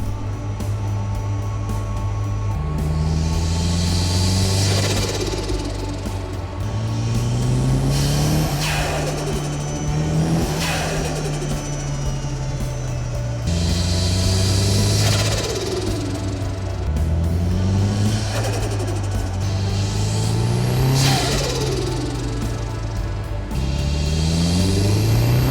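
A Nissan 180SX and a Subaru WRX STI rev up and drop back repeatedly, loud and close, with rising whines and gear-change pitch steps over a constant rumble.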